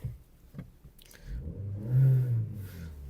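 A Volkswagen car engine idles steadily with a low rumble, swelling briefly into a rev before settling again.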